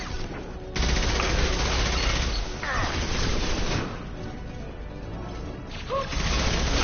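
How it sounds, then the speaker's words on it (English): Sustained automatic gunfire and booms in the sci-fi shooter Mass Effect 2 Legendary Edition, a continuous loud barrage with brief mechanical sounds and voices underneath. "Taking fire"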